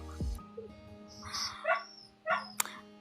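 A dog yips and barks a few times with short whimpering sounds, fairly close but not loud, separated by brief pauses in an otherwise quiet room.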